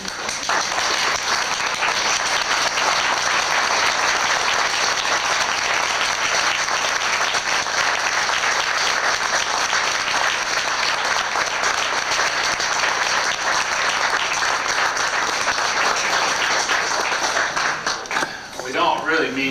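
A roomful of guests stands and claps at a 1990 retirement party, steady dense applause lasting throughout before thinning at the very end, with some voices mixed in.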